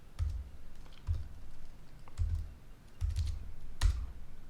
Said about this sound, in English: So we're gonna type in moving averages.